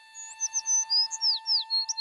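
A small sparrow chirps in a quick run of bright, high tweets and short whistled notes, clear and close over a faint steady background hum.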